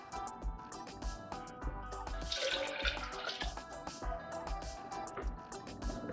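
Water is poured into a Jamaican-style carrot juice mixture in a kitchen, giving a soft, faint splashing and trickling with small drips and clinks, with no talking.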